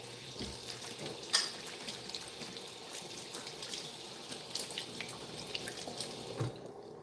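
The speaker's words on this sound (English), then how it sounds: "Let me just wash my hands real quick." Water from a tap runs steadily while hands are washed under it, dripping and splashing faintly into a sink, a quiet continuous wash with a few small knocks.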